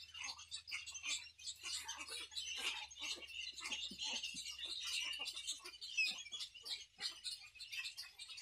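Egret chicks in a nesting colony call while being fed, a dense, continuous chatter of high squawks and chirps from many birds at close range, with no talking over it.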